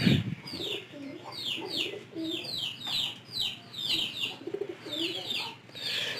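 Pigeons coo in a repeated, rhythmic pattern close by over a low background, a domestic flock kept in a loft.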